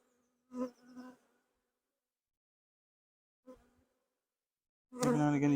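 Honey bees buzz in short close bursts around a hive frame during an inspection, with quiet gaps between passes and a louder, sustained buzz at the end.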